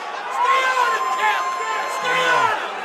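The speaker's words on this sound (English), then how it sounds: "The crowd alive." A boxing crowd roars and cheers after a knockdown in round four of a pro bout, a dense sustained swell of voices that stays loud throughout, with a commentator talking over it.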